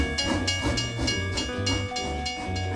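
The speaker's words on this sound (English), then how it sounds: "Buggy, the freight train is on its way" A cartoon freight train chugs along in a children's nursery rhyme animation, its rhythmic repeating clatter carried over a bright musical backing at moderate volume.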